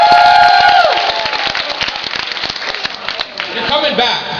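The audience at the Gallifrey One 2012 convention opening claps and cheers in a dense, steady burst, with scattered whoops over the applause and a speaker's voice on the PA.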